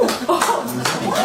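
A short burst of clapping from a small crowd, mixed with chuckles and laughter, close and lively.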